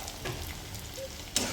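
Peanuts and tomatoes sizzle quietly in hot oil, a faint steady crackle with a brief stir or clink near the end, no voices heard.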